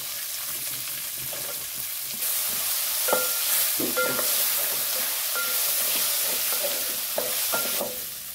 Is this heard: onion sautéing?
yes